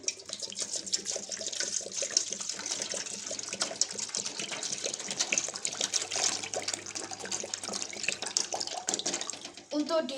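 Water runs from a tap into a container, a steady splashing flow as the first step in making coconut milk for an Indonesian es dawet drink, with some background voices.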